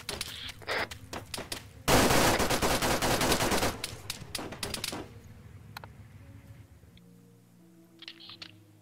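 Automatic gunfire in the military shooter Arma 3: a loud sustained burst of rapid shots after a few scattered cracks, then isolated distant shots and fading echoes over quieter background.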